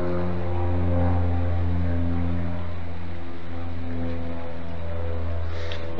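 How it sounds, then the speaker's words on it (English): Propeller plane droning overhead, a loud, steady low engine hum with strong harmonic bands that holds throughout without any talk. "Boy, the planes keep coming, one propeller plane after another."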